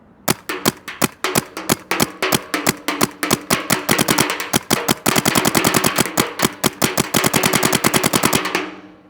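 A Luxe Idol paintball marker fires a long string of rapid shots, sharp close pops in an uneven stream that speeds up into a dense burst before stopping.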